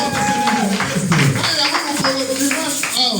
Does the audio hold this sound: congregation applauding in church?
yes